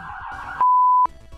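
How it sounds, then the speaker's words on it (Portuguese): Ambulance siren passing by outside, a loud steady wailing tone with a brief sharp piercing whistle in the middle, heard alone without talk. "Lá vem a ambulância, espera passar."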